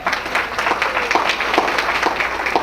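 A crowd gives steady, dense applause at an awards ceremony, sustained and fairly loud throughout without a break.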